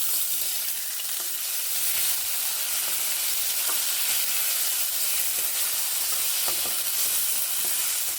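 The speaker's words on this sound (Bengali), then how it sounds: "এইভাবে নেড়ে ভেজে নিচ্ছি এইভাবে তেলেই" Washed mung dal is stirred and fried in oil with panch phoron in a pan for a spinach and mung dal dish. A dense, steady sizzle runs throughout, with faint stirring scrapes and no talking.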